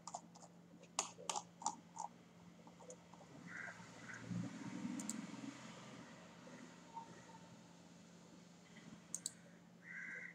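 Quick bursts of clicking keys on a computer keyboard while filling in an online application form, clustered at the start and end with a quieter hum between, close and fairly soft.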